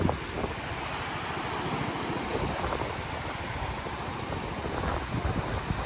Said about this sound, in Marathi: इथं समुद्राच्या लाटांनी फेस तयार झालाय